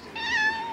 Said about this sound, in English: you've been meowing at me for a minute